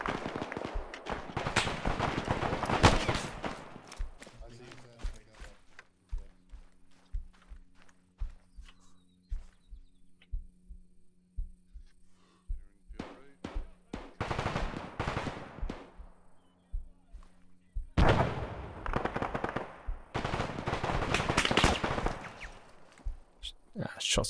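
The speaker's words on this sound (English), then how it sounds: "Shots from the further buildings." Distant gunfire echoes from far buildings in a tactical shooter video game, with bursts of rapid shots in clusters separated by quieter stretches and a low background hum.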